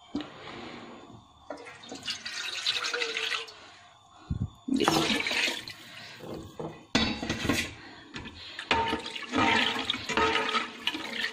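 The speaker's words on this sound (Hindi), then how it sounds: "अब मैंने इसके अंदर पानी शामिल किया है" Water splashes and gushes into a metal pot holding gram flour batter for kadhi in several bursts, with clanks of cookware between pours.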